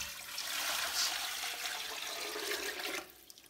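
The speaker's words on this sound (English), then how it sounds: "I'm just going to pour in some tap water." Tap water pours into a pressure cooker for a homemade water distiller, a loud steady splashing rush that runs for about three seconds before cutting off.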